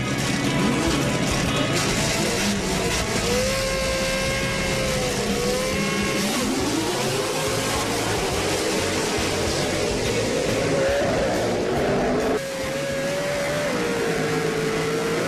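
Pro 4x4 off-road race trucks roar continuously at high speed into an off-camber right-hand turn, engines revving and shifting pitch, with a commentator talking over the loud racing.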